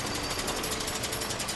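A jackhammer drills in the video game A Way Out, giving a dense, fast, unbroken hammering rattle that stays loud and steady with no talk over it.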